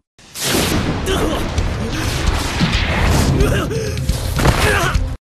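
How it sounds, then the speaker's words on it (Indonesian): A sudden loud anime explosion blast opens into a long, rumbling roar of debris and crashing that carries on for several seconds. "secara tiba-tiba terjadi ledakan yang membuat sang MC merasa terkejut"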